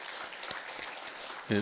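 Church congregation giving welcoming applause to latecomers, a continuous broad patter of many hands clapping at moderate volume, cut by a voice beginning to speak at the very end.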